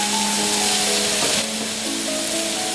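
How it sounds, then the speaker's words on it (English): Salisbury steak patties sizzle in a frying pan, a steady, close crackling hiss running without break, with a faint tonal hum beneath. "So let them sizzle away for a couple of minutes before we turn them over"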